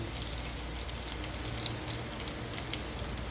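Garlic sizzles in hot oil in a pan, a steady crackling fry with small bright pops scattered throughout, close and moderately quiet, with no talk.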